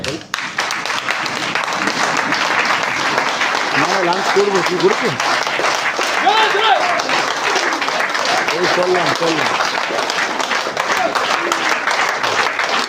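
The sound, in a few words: audience applause and standing ovation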